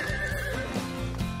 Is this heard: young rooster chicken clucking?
no